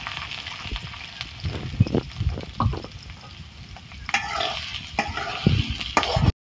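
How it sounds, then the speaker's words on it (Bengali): Onion and green chilli drop into hot oil in a wok and fry, giving a close, crackling sizzle broken by sharp bursts and scraping stirs against the metal, with no one speaking. "আমি কড়াইতে তেল দিতেছি, তেলে পেঁয়াজ আর কাঁচামরিচ দিতেছি।"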